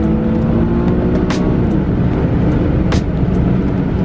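An Infiniti FX35 with a naturally aspirated 3.5 liter VQ35HR V6 engine revs hard in second gear, a loud, sustained close engine roar with steady droning tones and a couple of brief shifts in pitch.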